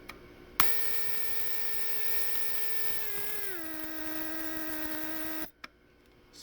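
A Mercedes S-Class W140 door lock vacuum pump runs with a steady mechanical motor hum, its pitch dropping partway through, running continuously before cutting off abruptly, followed by a brief click.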